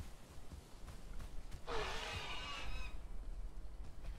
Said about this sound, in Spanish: aquí está el pájaro